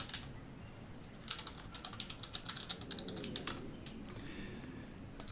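Quiet, rapid keystrokes on a computer keyboard come in a quick irregular burst of clicks, then trail off into a faint steady room hum.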